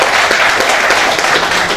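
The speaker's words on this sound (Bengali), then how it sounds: "আমরা আরেকটা হাততালি দিই ওনার জন্য।" A gathering at a third-anniversary celebration breaks into loud, sustained applause, many hands clapping close and evenly throughout.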